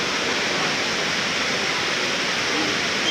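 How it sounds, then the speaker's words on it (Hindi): An indoor waterfall inside Dubai Mall gives a continuous broad rushing roar of falling water, steady and fairly loud with no breaks. "ये वाटरफॉल है।"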